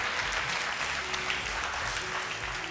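A studio audience on a Ramazan TV game show applauds contestants in a loud, even wash of clapping that continues without a break, with a faint tone in the background.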